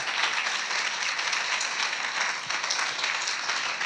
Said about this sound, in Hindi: जोर से ताली बजा के प्रभु के नाम की स्तुति करें